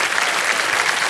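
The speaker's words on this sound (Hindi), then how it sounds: "जोरदार तालियां बज जाए एक बार फिर" A studio audience on the Kaun Banega Crorepati quiz show claps loudly and steadily for a contestant, a dense, even burst of applause with no speech over it.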